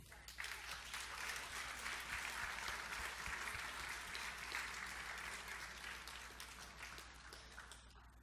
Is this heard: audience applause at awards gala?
yes